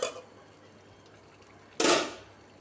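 A cooking pot lid is lifted off during mixed vegetable sabji cooking, a single short clattering scrape near the end after a quiet stretch, preceded by a faint clink at the start.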